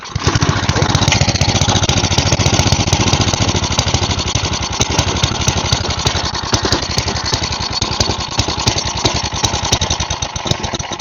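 Small go-kart engine running with the choke on, a loud, close, rough idle with a fast chugging pulse that stays steady throughout.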